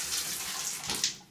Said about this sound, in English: after the water's off, come in here, open up the faucet,